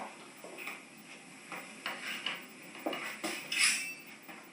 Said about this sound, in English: So I'll just roughly chop them